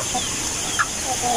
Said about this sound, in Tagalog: Ayan yung mga inahing manok natin at mga lalaki.